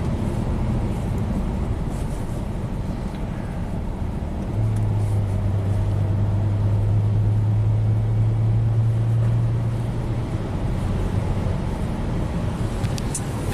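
Saab V6 turbo car accelerating under boost after an injector misfire repair, a steady loud engine and road roar from inside the cabin with a sustained low drone rising midway.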